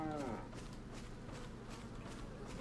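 A cow lows in Resident Evil 4, a low, drawn-out moo rising near the start over steady game ambience and faint footsteps, fairly loud and close, with no talk over it.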